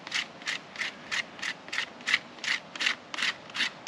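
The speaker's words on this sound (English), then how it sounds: "going to quickly clean it up using the edge of the knife" A knife edge scraping wet bark off a firewood log at a rainy woodland camp, about eleven evenly spaced rasping strokes, close and crisp, each a short scratchy burst with brief pauses between.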